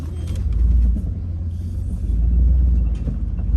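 An old Ford Bronco crawls along in forward low first gear, its engine giving a steady, loud, close low rumble that swells and eases over a few seconds with no talking.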